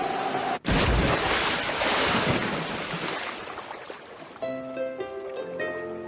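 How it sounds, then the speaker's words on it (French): A cartoon aircraft with a failed engine crashes down into the open sea in a big, loud splash, followed by a sustained roar of surf and churning water that fades under light music. "Le moteur nous a lâchés. On va devoir se poser."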